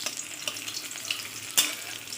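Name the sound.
rohu fish frying in oil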